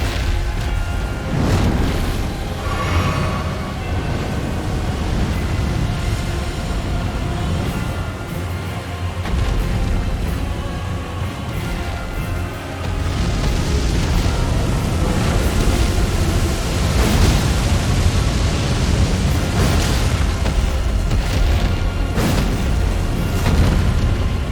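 A fire dragon attacks in Elden Ring, heavy booming roars of flame and low rumbling blasts surging loud and continuous, swelling stronger in the latter half with no talk.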